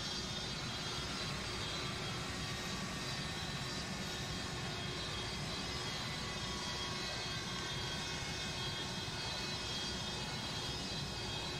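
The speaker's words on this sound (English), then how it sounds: "Are the engines shutting down?" Airliner jet engines winding down at the gate in a flight simulator game: a steady, loud, broadband jet roar with a faint high whine, continuous and unchanging, with no talk.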